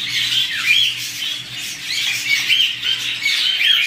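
Albino fancy bird, a male, calling in a market stall: repeated loud squawking cries in close succession, bright and harsh, with a low steady hum underneath.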